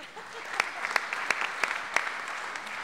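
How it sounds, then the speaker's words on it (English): An audience at an awards ceremony at an annual business meeting gives light applause, a thin scatter of claps with a few sharper, nearer ones standing out, steady and moderately quiet throughout. "You can clap."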